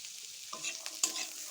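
Green peas tipped into a pan of frying beans and carrots for vegetable fried rice, with a quiet hissing sizzle and a couple of spatula scrapes and knocks close by.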